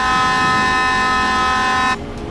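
A truck horn blares steadily and loud in Farming Simulator 19, holding a continuous tone for about two seconds before cutting off abruptly, with no voices.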